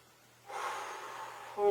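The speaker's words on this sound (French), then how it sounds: "On inspire." One deep inhale during a seated shoulder and upper-back stretching routine, a soft, close airy draw of breath lasting about a second, followed by a voice starting to speak.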